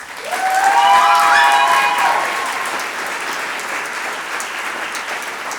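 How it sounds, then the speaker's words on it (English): A school spring concert crowd applauds steadily, swelling early and then settling into sustained clapping, with a few faint whistles or cheers near the start. "Let's give them one more round of applause."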